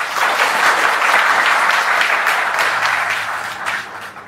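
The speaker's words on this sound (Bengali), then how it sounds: "তা একটা হাততালি দাও তোমরা।" Audience applause for a student who passed the SSC MTS Havaldar exam, a dense, steady patter of many hands clapping throughout, loud and close, tapering slightly toward the end.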